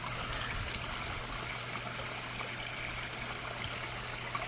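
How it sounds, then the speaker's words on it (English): Close-up waterfall splashing into a natural swimming pool koi pond, a steady bright trickling rush with a low constant hum beneath it, no talking. "let me just show you what a waterfall looks like from really close"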